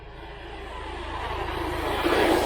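An XLF X04A Max RC car runs fast on tarmac, its electric motor giving a steady high whine that grows louder and brighter as it nears, no speech.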